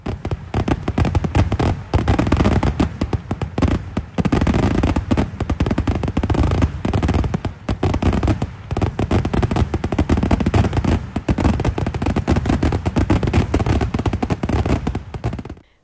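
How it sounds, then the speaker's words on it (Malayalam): Festival fireworks at Pandallur Pooram burst from the eastern paddy fields in a loud, relentless barrage of rapid cracks and booms, dense and nearly unbroken throughout, with only brief dips between volleys. "പന്തല്ലൂർ പൂരനഗരിയിൽ വീണ്ടും വെടിക്കെട്ട് വിസ്മയം വിരിഞ്ഞു"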